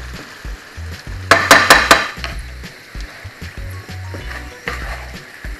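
Potatoes caramelizing in butter in a hot pan, a steady frying sizzle broken by a burst of sharp metallic clinks and scraping as they are stirred and turned, close and fairly loud.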